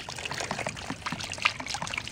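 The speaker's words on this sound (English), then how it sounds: "you can see that there's water coming out of the snifter valve when I manually operate it" Water spurting and trickling from the snifter valve of a hydraulic ram pump as it is worked by hand, a close, uneven splashing dribble with small spurts, without speech.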